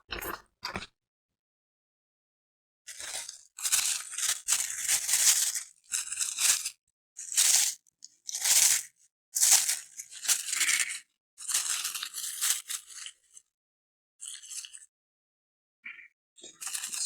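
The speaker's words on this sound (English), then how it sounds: "Styrofoam just gets everywhere." Styrofoam packaging from a JVC KD-SR85BT single-DIN car stereo being handled during unboxing, producing close, bursty squeaks, crunches and rubbing scrapes in irregular clusters separated by silent pauses, with no talking.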